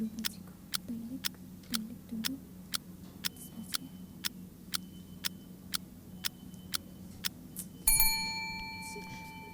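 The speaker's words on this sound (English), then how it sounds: "That bell indicates that your designated 20 seconds is up." A quiz show timer bell rings once to mark that a contestant's 20 seconds are up, a bright sustained ding with a long fading ring, following a steady run of faint ticking clicks.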